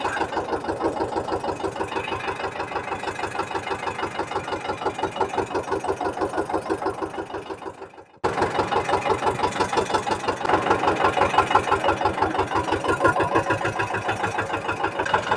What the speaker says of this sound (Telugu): కానీ మన ట్రాక్టర్ ఫుల్ సౌండ్ చేసుకుంటూ పోతుంది